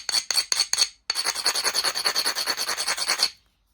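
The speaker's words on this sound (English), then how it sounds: "So what I'm going to do is I'm going to grind it." Hand grinding makes close, loud, raspy scraping strokes: four separate passes, then a fast unbroken run of rhythmic back-and-forth rubbing that stops abruptly, with no voices.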